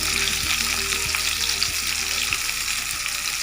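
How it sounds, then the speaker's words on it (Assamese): Potato pieces fry in plain oil with no spices, giving a close, steady sizzle and crackle with faint stirring taps underneath. "প্ৰথমতে আমি আলুখিনি সুদা তেলতে ফ্ৰাই কৰি ল'ম।"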